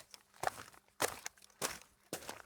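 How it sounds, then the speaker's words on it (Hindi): Heavy boots thud on the ground at a doorway, four evenly spaced footsteps with a steady walking rhythm, clear and close against a quiet background. "तभी दरवाजे पर सरपंच की भारी जूतों की आहट हुई।"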